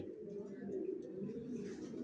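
Racer pigeons cooing in a loft, a continuous low murmur of overlapping coos from several birds close by.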